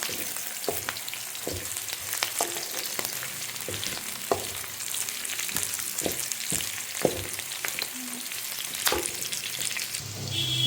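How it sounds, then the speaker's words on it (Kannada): Onions turning light brown fry in a pan, giving a moderate, steady sizzle with scattered crackles and occasional stirring clicks, fairly close and without speech. "ಈರುಳ್ಳಿ ಕಲರ್ ಎಲ್ಲ ಚೇಂಜ್ ಇದೆ ಒಂದು ಟೂ ಮಿನಿಟ್ಸ್ ಸಾಕು ಫ್ರೈ ಮಾಡ್ಕೊಳ್ಳೋಣ ಈ ಥರ"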